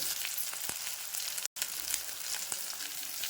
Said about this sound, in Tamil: நான் கடுகு கடலைப்பருப்பு பொரியுது